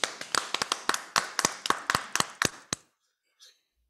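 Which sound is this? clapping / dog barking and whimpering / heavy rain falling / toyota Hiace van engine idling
clapping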